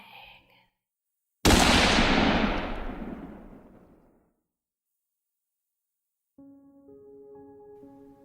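A single loud, sharp gunshot effect rings out close and alone, its blast decaying over about three seconds into silence, followed by a faint steady tonal hum.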